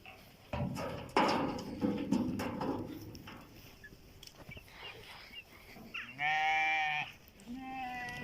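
Sheep bleat nearby, with one loud drawn-out bleat followed by a shorter one, over rustling and shuffling of a flock.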